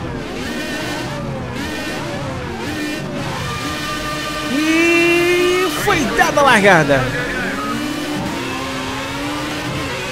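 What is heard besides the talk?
Formula A race car engine revving, Project CARS 2 video game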